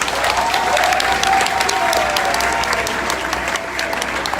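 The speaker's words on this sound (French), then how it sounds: "Il faut applaudir Serge Kassi." Sustained applause from a large crowd at a political rally in Côte d'Ivoire, dense and steady clapping throughout with a faint murmur of voices underneath.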